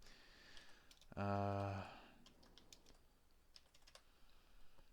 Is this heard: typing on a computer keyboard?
yes